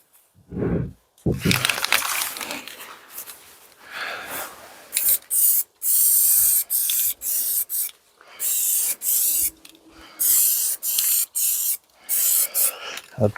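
Spray can painting the rear suspension of a Jaguar XKR during restoration: repeated bursts of aerosol hiss, loud and close, each lasting about a second with short pauses between, after some rubbing and handling noises at the start.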